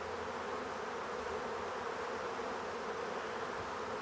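Agitated honey bees buzz loudly as a beekeeper opens their hive on a dull, overcast day, a dense, steady swarm drone filling the scene without a break and with no voices.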